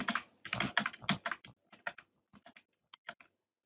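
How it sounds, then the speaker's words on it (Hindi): Keys on a computer keyboard tapped in quick clusters while working in CorelDraw, crisp and close, the bursts thinning out into scattered single presses with no talk. "इसी तरह मैं Ctrl+Z करता हूँ।"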